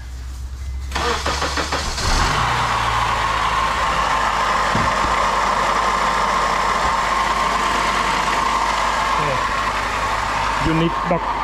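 A 2005 Honda Accord Euro CL9 with a faulty water pump cranks, starts and settles into a loud, steady idle up close, with a persistent whining hum running through the running engine.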